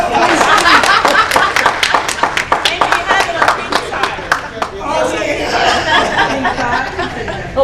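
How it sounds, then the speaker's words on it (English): Audience at an international oncology symposium applauding a panelist: a burst of crisp, distinct claps for about five seconds that thins out into murmured crowd chatter and light laughter. "He needs another round of applause."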